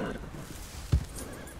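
A horse whinnies in the video game Red Dead Redemption 2, one short, loud neigh standing out briefly over a soft background rumble.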